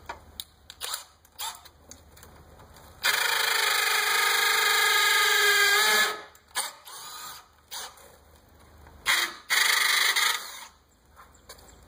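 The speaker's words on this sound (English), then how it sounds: "I'm going to put in my 3/8 bit to finish drilling those holes." A power drill with a 3/8 bit bores holes for a wrought iron gate installation, running in two sustained close bursts of several seconds each, separated by clicks, clatter and handling noises.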